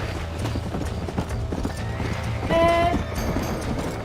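Horse hooves clip-clop at a gallop in the Red Dead Redemption video game, with a loud whinny rising midway over busy in-game sound and gunfire-era ambience.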